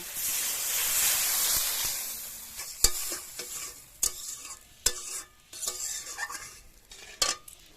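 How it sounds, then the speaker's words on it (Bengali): Water goes into frying masala with Kashmiri chilli powder for ritha fish curry. A loud hissing sizzle fades over a couple of seconds, followed by sharp utensil clanks and stirring knocks against the pot. "মশলা কষানো হয়ে গিয়েছে, এবার জল দিয়ে দেব।"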